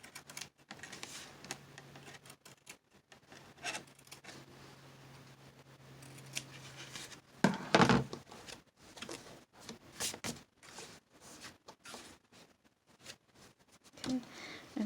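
Scissors snip the raw edge of fabric during vintage Christmas junk journal crafting, giving a short sharp cluster of close cuts in a quiet room with small handling noises around it.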